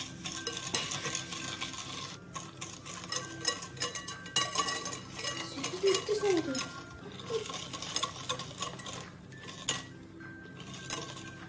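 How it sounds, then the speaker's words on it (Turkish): Sugar and eggs for a cake batter being stirred in a bowl, a soft continuous swishing with occasional light clinks of the utensil, fairly faint and close, with no talk. "Biraz karıştıracağız."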